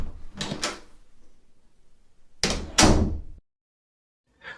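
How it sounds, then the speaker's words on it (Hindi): A bathroom door being opened in a dark, horror-story setting: close, heavy wooden clunks arrive in two short bursts, then a final brief knock after a silent gap, with no voices. "जब मैंने बाथरूम का दरवाजा खोला"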